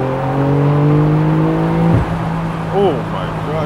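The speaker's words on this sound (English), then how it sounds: "I'm gonna accelerate to see how fast that goes" Porsche 911 992 Carrera S accelerating hard, engine tones climbing steadily in pitch, then a quick gear shift and a renewed rise, heard from inside the car with a short voice near the end.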